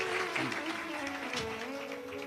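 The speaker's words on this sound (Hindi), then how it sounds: "एक बार जोरदार ताली बजाकर" An audience at a Shiv Mahapuran katha gives a brief round of applause, fairly faint and blended with a voice and a held musical tone.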